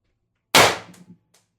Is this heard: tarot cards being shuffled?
no